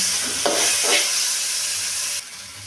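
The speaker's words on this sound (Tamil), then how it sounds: "தக்காளியும் போட்டு வதக்கி எடுத்துக்கலாம்" Tomatoes sauté in a pan for mint coriander chutney, a close, steady frying hiss with a couple of stirring scrapes near the start, fading slightly toward the end.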